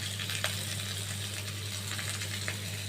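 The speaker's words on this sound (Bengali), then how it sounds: "দেখো আমার রসুন কাঁচা লঙ্কা হালকা ভাজা হয়ে গেছে" Garlic cloves and green chillies fry lightly in oil in a pan, making a soft, steady sizzle with a few small clicks and scrapes over a low background hum.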